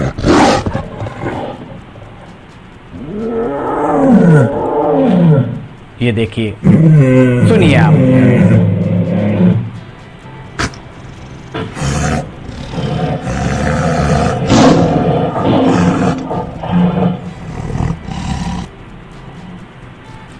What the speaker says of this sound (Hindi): अब देखिए कैसे दहाड़ रहे हैं वनराज।